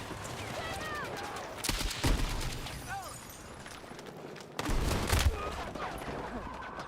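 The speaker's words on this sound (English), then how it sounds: "Goddamn shotguns." Shotgun blasts and gunfire in Battlefield 6, a couple of loud bursts punching through a busy battle soundscape with scattered shots and a voice talking.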